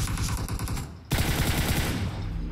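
Gunfire in the mobile battle royale game PUBG Mobile: rapid automatic bursts of shots, loud and close, with a brief pause before a fresh volley resumes, no speech.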